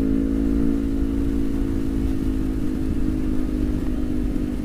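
A Honda CBR250RR ridden flat out on a mountain road between Wonogiri and Ponorogo, its engine a loud, sustained high-revving drone with steady wind rush, close up and continuous throughout.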